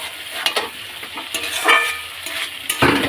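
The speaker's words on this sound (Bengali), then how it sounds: "এখানে হচ্ছে আলুর দম হচ্ছে, এখানে হচ্ছে আলুর দম" Aloo dum, a potato curry, cooking in a pan, with sizzling and frying under repeated stirring scrapes and utensil taps, close and moderately loud, ending in a brief louder burst.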